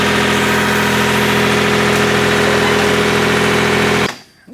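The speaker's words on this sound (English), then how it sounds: "We're gonna lift it with the tractor again and try and push it inside." A tractor engine runs steadily and loudly close by while lifting a car, a constant idling drone with a rhythmic mechanical pulse that cuts off abruptly near the end.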